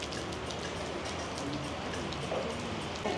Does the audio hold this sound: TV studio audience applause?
no